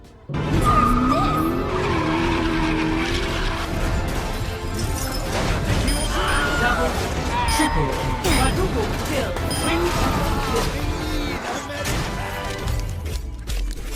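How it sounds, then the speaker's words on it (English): A car skids and crashes, tires squealing and the engine roaring through a long, continuous chaotic stretch, with a voice talking over much of it. "Because of the car crash, Shiki can now see what's called the lines of death."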